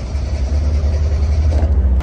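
A car engine revs during a vehicle inspection in Turkey on a car with an LPG tank, a low, steady rumble throughout with a slight rise near the end, close and fairly loud.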